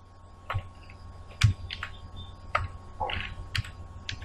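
Keys tapped on a computer keyboard in scattered, irregular clicks and short bursts, fairly quiet and close, with no talking.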